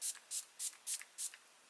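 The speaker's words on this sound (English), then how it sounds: "I'm going to take the MAC Mineralized Charge Water Skin Hydrating Mist." Five short, evenly spaced hisses of a MAC Mineralized Charge Water skin hydrating mist sprayed onto a face, close and clear with quiet gaps between them.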